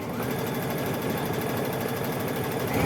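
A sewing machine runs continuously while stitching binding onto a quilt, its needle hammering in a fast, even mechanical rhythm with a steady motor whir, close and fairly loud.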